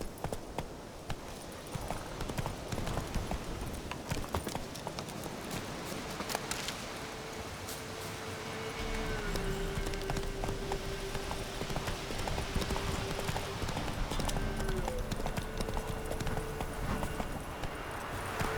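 Roach the horse galloping in The Witcher 3, rapid rhythmic hoofbeats clip-clopping continuously and fairly close, over a faint musical drone and ambient game sound.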